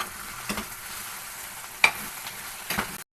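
Potato curry with tomato, turmeric and ginger-garlic paste stirred in a pan, a low sizzle broken by three scraping strokes of the spoon, close by, before a sudden cutoff.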